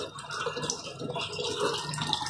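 Tap water pours steadily into a washing machine tub being filled for a load of clothes, a constant, close rushing and splashing hiss with no break.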